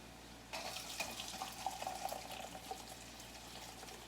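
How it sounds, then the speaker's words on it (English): Hot tea brewed from cacao seed husks being poured into a cup, a sudden close liquid stream that starts abruptly and keeps running with a bright, bubbling fill sound, no voices. "I'm going to pour it in here."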